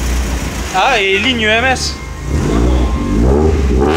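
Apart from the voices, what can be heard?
car engine starting and revving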